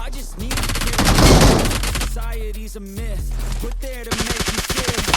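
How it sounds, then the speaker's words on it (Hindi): Close-range gunfire in a battle royale game, 1v4 fight. Loud, dense bursts of rapid shots run almost without a break, with other game sounds, and a voice briefly mixes into the din. "ये मेरे पे फायर करते हैं।"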